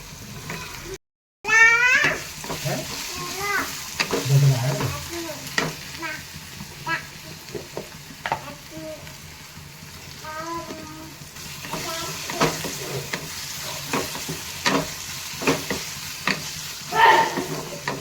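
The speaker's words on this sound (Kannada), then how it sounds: "ಲೈಟ್ ಪಿಂಕ್ ಕಲರ್ ಬರೋವರೆಗೂ ಚೆನ್ನಾಗಿ ಇದಕ್ಕೆ ಆಯಿಲಲ್ಲೇ ಫ್ರೈ ಮಾಡ್ಕೋಬೇಕು" Chopped onions frying in oil in a pan, with a steady sizzle and occasional stirring scrapes. A brief dropout comes near the start, and faint voice-like sounds and background noise sit under the frying.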